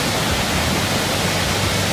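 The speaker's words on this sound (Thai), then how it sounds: "น้ำตกส่วนตัวสวยงามมาก" A waterfall at Krok E Dok roars as a dense, steady, broadband rush of falling water that stays loud and even throughout, with no voices over it.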